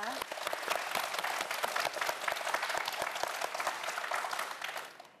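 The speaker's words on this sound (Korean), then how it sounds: "최선을 다해준 우리 네 학생 모두에게 큰 박수 부탁드립니다" Studio audience applause for four student contestants on a TV quiz show, a lively burst of dense clapping that fades at the end, with no voices over it.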